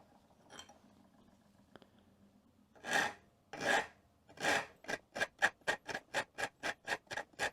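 A metal file rounds over the edge of a Saiga 223/556 magazine in a series of rasping strokes, a few slow ones first, then quickening into a steady, even rhythm of short scrapes.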